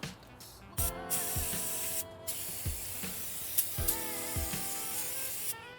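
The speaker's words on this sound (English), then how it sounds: "Last thing to do, nice spray down, because as you can see, I did touch it a little bit there." Aerosol brake cleaner sprayed over freshly serviced Audi brakes after a brake job: several close, loud hissing bursts in quick succession with short gaps, with no talk.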